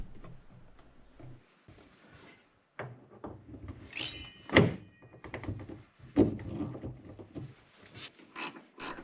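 Gas struts being clipped onto the hood mounts of a Kia Sportage, giving several sharp plastic-and-metal snaps and clunks with ratcheting, handling noises in between, close up.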